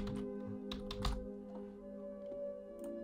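A computer keyboard being typed on in a short run of quick, close key clicks over a steady electrical hum, with no talking.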